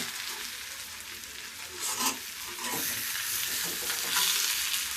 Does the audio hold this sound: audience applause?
no